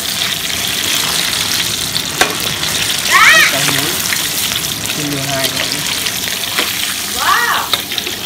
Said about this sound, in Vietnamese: Tôm cũng chiên được một lửa đấy. Ếch cũng chiên được một lửa các bạn.